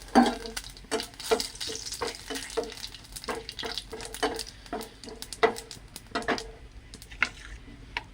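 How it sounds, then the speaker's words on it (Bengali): Cumin seeds, bay leaves and dried chillies hit hot oil in a pan after fish has been fried, giving a steady close sizzle broken by repeated scraping stirs. "এবার এই গরম তেলের মধ্যে দিয়ে দিচ্ছি জিরে, তেজপাতা, শুকনো লঙ্কা।"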